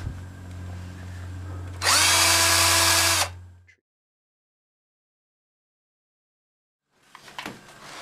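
A handheld power tool with a diamond wheel cuts into archtop guitar wood during kerfing repair, giving a loud, steady, high whine for about a second and a half before spinning down to silence, then faint handling noise.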